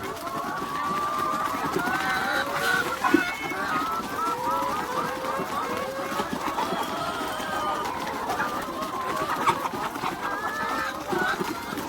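Laying hens on an egg farm cluck and chatter in a continuous, overlapping chorus, with occasional louder squawks rising from the flock at close range.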